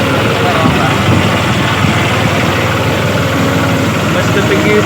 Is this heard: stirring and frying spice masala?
no